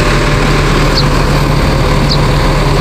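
Engine of an NPM bus passing on the road, a steady loud rumble filling the whole stretch with no voices over it.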